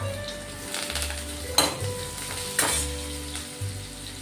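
Coriander leaves hit a hot pan and crackle in a close, continuous fry, broken by two sharp metallic clanks of a utensil against the pan.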